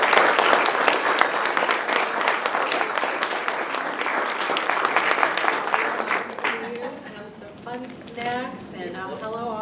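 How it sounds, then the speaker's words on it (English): An audience at an annual address applauds an award recipient, dense sustained clapping filling the room for several seconds before thinning out as a voice begins speaking over the fading applause. "Please give her a round of applause."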